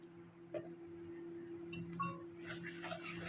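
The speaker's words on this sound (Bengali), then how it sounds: "তাহলে এবার তিল দিয়ে একটু নাড়াচাড়া করবো আর একটু খানিকক্ষণ।" Sesame seeds being stirred with red amaranth greens in a pan, with light clinks and scrapes of a utensil against metal over a steady low background hum, fairly quiet and close.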